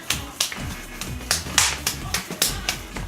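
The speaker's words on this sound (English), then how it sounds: "Foot clap." A person claps with their feet, giving a series of sharp, snappy slaps at an irregular beat, about ten in three seconds, close and clear with no talking.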